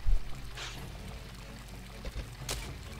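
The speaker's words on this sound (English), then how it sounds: "Yeah, truly I can fill with water." Water gushes into a container in the Tomb Raider IV: The Last Revelation Temple of Horus level, a steady watery pour with a couple of short splashy surges, moderately loud and with no voices.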